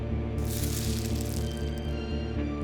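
Frozen status effect from the dungeon-crawler game Shattered Pixel Dungeon: a bright, icy crackling shimmer that swells in after a brief low hum and lingers steadily for a couple of seconds, with no voices.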